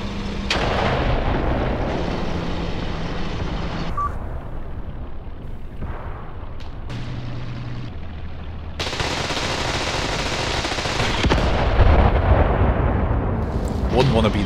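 Loud, continuous battlefield din from the Graviteam Tactics war game: frag grenades exploding amid sustained gunfire and artillery booms, dense and layered throughout without a break.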